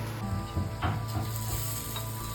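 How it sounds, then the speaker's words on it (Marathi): Breadfruit slices fry in a hot pan, giving a constant close sizzle with a few brief stirring scrapes over it. "ही बघा आपली नीरफणसाची फ्राय केलेली कापा"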